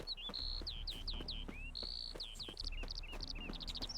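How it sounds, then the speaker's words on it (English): A loud bird in the Witcher 3: Hearts of Stone video game whistles and chirps in quick repeating sweeping notes, close and prominent over a steady background of insect or cricket buzz. "That's a loud bird. That bird is very loud."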